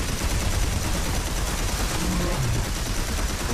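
Continuous gunfire in the Red Faction Armageddon video game, a steady wall of loud, rapid shots that never lets up.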